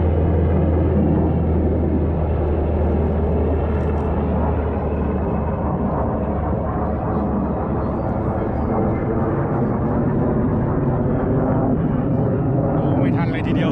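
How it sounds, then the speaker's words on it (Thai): A Black Hawk helicopter circling at an air show at a US Air Force base in Las Vegas makes a loud, steady, continuous roar and rumble throughout. "วนมาแล้วครับแบล็คฮอควนมาอีกแล้ว"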